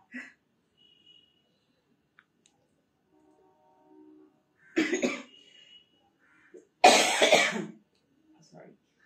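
A few sharp coughs, close and fairly loud, with a quieter one near the start and another at the very end, separated by near silence.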